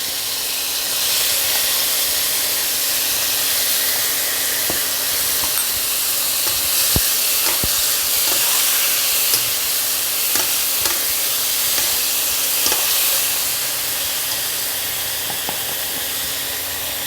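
A steady, loud sizzle of ginger, coriander, cumin and chili paste frying in a pan with fried potatoes fills the whole stretch, with scattered clicks and light stirring scrapes and no voices.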